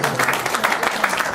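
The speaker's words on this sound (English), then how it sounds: "Let's clap for Jesus for that" In a church, the congregation claps steadily and rhythmically. The applause is moderately loud and fills the room.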